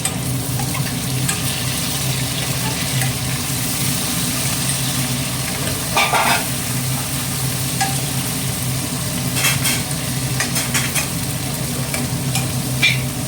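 Onions and tomato frying in a pan as the base for a fish curry, a continuous loud sizzle with scattered stirring scrapes and clinks throughout, and no one speaking.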